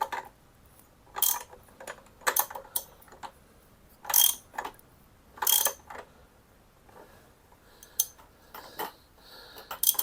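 A wrench ratchets a nut tight on a 1973 Harley Sportster, giving bursts of quick metallic clicking separated by short pauses, close and fairly loud over a quiet background.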